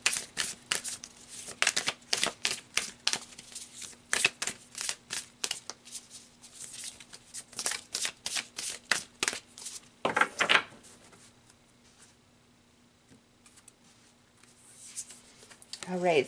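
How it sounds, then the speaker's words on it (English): Tarot cards are shuffled and flicked in quick papery bursts for about ten seconds, then go quiet apart from a little soft handling near the end, with a faint steady hum underneath and no talking. "So let's pull a couple more cards here."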